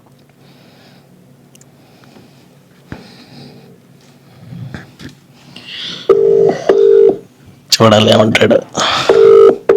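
A phone call being placed: faint dialing sounds give way to a repeated ringback tone, loud and close, in steady bursts. Someone speaks briefly over it.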